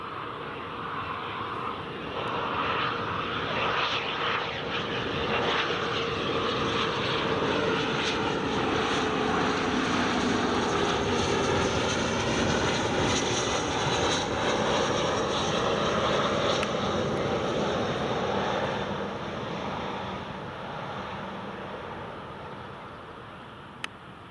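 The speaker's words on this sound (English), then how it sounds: "It's a Loganair just coming in. Good old Embraer 145." A Loganair Embraer 145 jet airliner on approach to land at Newcastle International Airport, a steady broadband engine roar that swells and holds loud for most of the span before easing off near the end, with no talk.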